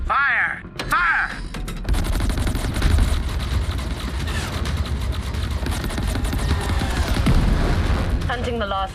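Spaceship weapons firing in the space combat game Chorus, a dense rapid barrage of booming shots and blasts that starts after a short lead-in with brief voice calls, then sustains loudly to the end.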